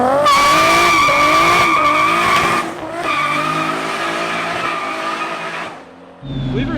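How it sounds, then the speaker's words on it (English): A car in a power slide sends out loud, sustained tire squeals with shifting pitch, a brief dip, then a second long skid before it fades and an engine note rises at the end. "Power slides I'm okay with though."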